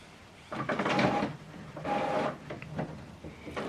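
An HP Officejet Pro 8135e printer running a print job, with two louder bursts of mechanical whirring and feeding separated by quieter motor hum, then a shorter pass near the end, close by and without talk.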